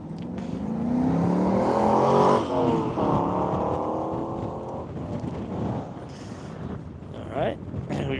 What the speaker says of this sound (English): we've got a Ferrari and a Camry in the same run group